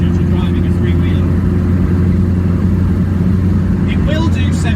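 A Reliant Robin three-wheeler car drones along at speed, its engine humming loud and steady from inside the cabin with constant road rumble, heard alone without talk.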